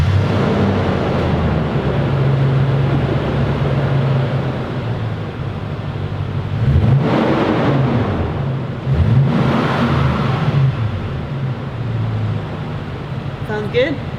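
A Lexus V8 overland rig fitted with a new Magnaflow muffler idles with a steady, deep rumble, then the engine is blipped twice, around seven and nine and a half seconds in, each rev swelling up and falling back to idle.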